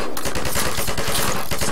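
Rapid automatic gunfire in Garry's Mod, a loud, continuous rattling burst of evenly spaced shots filling the whole moment with no talking.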